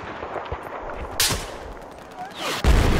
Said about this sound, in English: That was a cruise missile